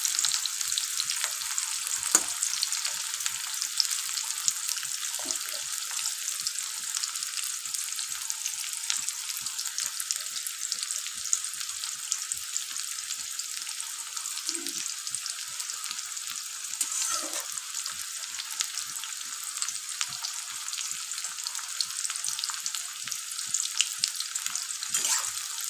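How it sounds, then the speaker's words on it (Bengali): Onion frying steadily in oil for a chicken kosha, a dense continuous hiss of sizzling with occasional faint stirring taps, no voices. "এই পেঁয়াজটা ভেজে ভাজতে হবে আমার"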